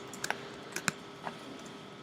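A handful of crisp, quiet keystrokes on a computer keyboard, spaced irregularly over two seconds against a faint room hum, with no talking.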